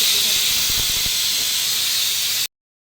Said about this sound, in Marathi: आता ही शिट्टी झाली की गॅस बंद करते